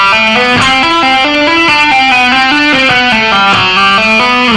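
A distorted electric guitar plays a rock lick at a slow tempo, using hammer-ons, pull-offs and first-finger slides; the notes step steadily up and down, loud and sustained, with no talking.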